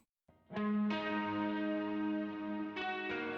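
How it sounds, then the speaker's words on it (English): Sustained outro electric guitar chords from a song ring out with heavy effects and shimmering echo, swelling after a quiet start and re-struck near the end, no voices. "So we had some outro guitars come in to sound like this."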